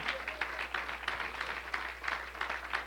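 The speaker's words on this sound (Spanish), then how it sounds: "Un aplauso para Él en esta noche." A congregation claps during an evangelistic church service, a fairly soft, continuous patter of many hands over a low electrical hum, with no one speaking over it.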